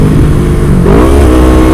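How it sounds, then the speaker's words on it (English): A motorcycle engine revs up during a downshift while rev matching, the loud steady drone jumping to a higher rising pitch about halfway through, close and without speech. "Let's see if we can downshift properly."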